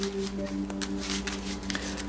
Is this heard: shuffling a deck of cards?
yes